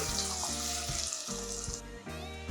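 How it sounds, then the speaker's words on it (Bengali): Batter-dipped potato chops dropped into hot oil in a wok give a steady, fairly quiet sizzling hiss, accompanied throughout by a low droning hum. "এইবার আমি আগে থেকে কড়াইতে তেল গরম করে রেখেছিলাম এই পুরগুলো একে একে আমি ব্যাটারে চুবিয়ে নিয়ে এইভাবে কড়াই দিয়ে দিলাম"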